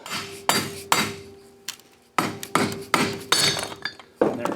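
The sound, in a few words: hammer whacks to remove a Briggs flywheel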